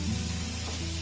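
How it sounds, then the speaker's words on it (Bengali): Spice paste sizzles in a hot pan while being cooked for a potato recipe, a steady, close frying hiss that lasts a brief moment with no voices. "মশলাটা আমার ভাজা ভাজা হয়ে গেছে।"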